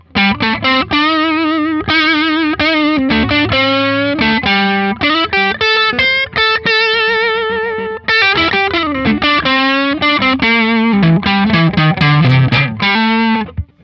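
An electric guitar through a Tube Screamer-style overdrive on a Keeley DDR pedal plays a continuous run of gritty, sustained notes and bends, loud and up front, with no talking.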